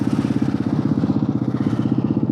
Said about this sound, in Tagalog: So ngayon guys, testingin natin yung takbo ng motor.